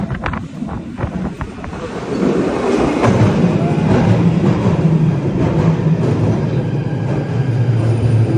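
A London Underground train roars through a tunnel, a loud rumbling swell that builds after a couple of seconds and holds, with gusty wind buffeting the microphone.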